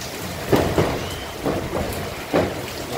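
Heavy rain with strong wind in Santana do Ipanema, Alabama, Brazil, a steady close wash of downpour with several louder gusting surges rising and falling over a few seconds, no voices.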